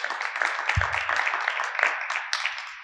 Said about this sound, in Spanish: Fuerte aplauso para los dos.